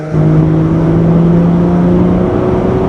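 A 2005 Chrysler Crossfire's 3.2 liter six-cylinder engine runs at a steady, smooth drone, loud and close, with a constant low hum and no speech.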